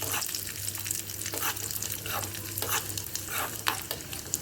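Cashews and raisins fry in a pan for a pumpkin payasam, a steady soft sizzle with scraping stir strokes at a regular pace, close and alone.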